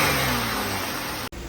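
A 2000 Buick LeSabre engine revs steadily and loudly up close, a continuous mid-pitched drone with a high whine on top, then cuts off abruptly near the end.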